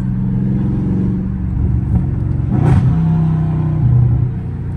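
A loud Dodge Scat Pack engine rumbles steadily from inside the car, rising in brief revving surges as it downshifts, with no talk over it.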